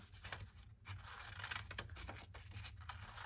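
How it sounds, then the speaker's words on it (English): Scissors snip and scrape through paper as a craft circle is cut toward its middle, faint and close, in short repeated cuts with no talk. "I'm going to control my scissors. I'm cutting only until the middle circle."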